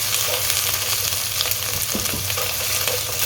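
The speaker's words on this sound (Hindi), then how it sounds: "1 मिनट के लिए हम अदरक को फ्राई करेंगे।" Ginger paste and sliced onions fry in a pan with a steady, dense sizzle, close and continuous, with faint stirring scrapes and no talking.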